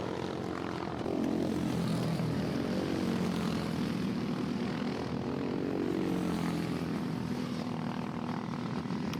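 Several racing karts run together toward a pit lane turn, their buzzing engines droning steadily and fairly loud, with overlapping pitch sweeps as they pass.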